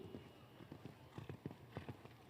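Show-jumping horse hooves clip-clop in a quick uneven rhythm at a 1.45m jumper class, faint and somewhat distant.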